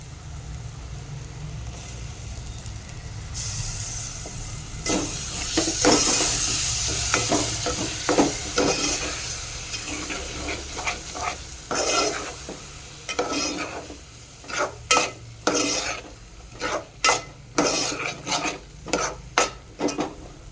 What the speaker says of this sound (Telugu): నేను అల్లం ఎల్లిగడ్డ పేస్ట్ కూడా వేసుకుంటున్నాను